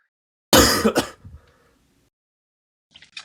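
A single sharp cough-like burst is followed by rough throat clearing, close and alone, then a few faint small sounds a couple of seconds later.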